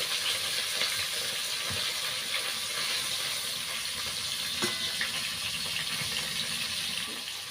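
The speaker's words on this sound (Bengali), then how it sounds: "তো চলো, মাছগুলো ভাজতে থাক" Fish in hot oil fry with a continuous loud sizzle and crackle, steady throughout, with a few small pops and no voices.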